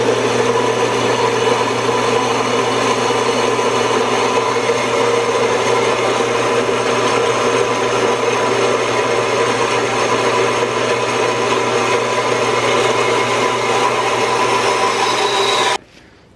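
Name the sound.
cutting machine cutting pipe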